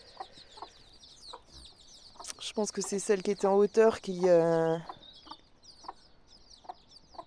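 Hens cluck inside a henhouse that holds white hens with chicks, with a loud burst of harsh, squawking calls in the middle and someone talking quietly around it.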